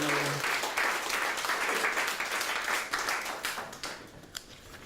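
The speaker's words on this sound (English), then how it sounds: "Please applaud the kids." An audience at a Seattle poetry read-off applauds children's poetry with a full, dense burst of clapping that gradually thins into a few scattered claps before fading out.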